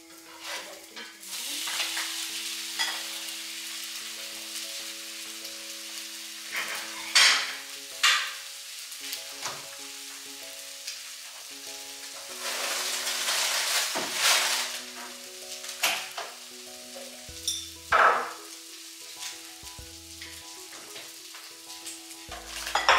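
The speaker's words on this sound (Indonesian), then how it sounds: "Jadi aku gorengnya nggak terlalu lama, karena kalau terlalu lama dia nanti telurnya jadi keras, kering, kurang enak." Eggs frying in a home kitchen pan, a steady close sizzle and crackle running the whole time with occasional spatula scrapes and stirring clinks, no talking.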